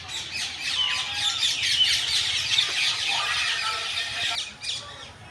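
Ducks at a deer park call together in a dense, continuous chorus of squeals and squawks, close and fairly loud throughout.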